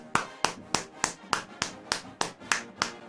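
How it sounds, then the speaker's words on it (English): Hands clap inside a sports radio studio: about ten sharp, close, evenly spaced claps at roughly three per second, with no talk over them. "you don't have to clap either"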